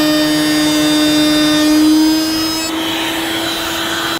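A router cutting MDF along a template, with the material held down by a GRR-RIPPER, gives a loud steady high-pitched whine that holds and then cuts off abruptly at the end.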